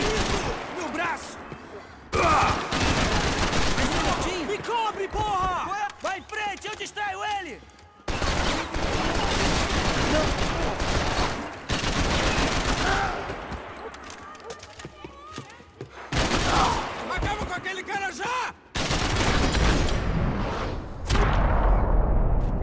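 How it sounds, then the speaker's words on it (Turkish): Gunfire in the video game Max Payne 3, bursts of shots and rapid fusillades in several loud stretches separated by brief silences, with voices talking among the shooting. "Bir silah sesi duyuyorum ama nereden geldiğini anlayamıyorum."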